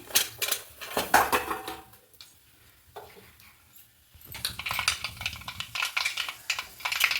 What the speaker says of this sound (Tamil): கடுகு வந்து நல்லா பொரிஞ்சிச்சு